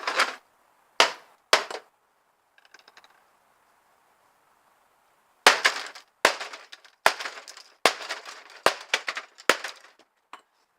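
A PlayStation 3 console being smashed apart, its tough metal base struck, gives sharp cracking impacts: three separate hits, a faint rattle, then a rapid cluster of loud, close blows with no talking.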